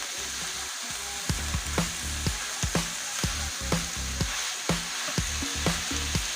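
Ground beef frying in a pan for a beef, chicken and potato cottage pie, stirred with a utensil; a steady sizzle runs underneath as sharp scraping strokes come every half second or so, close and clear, with no talking.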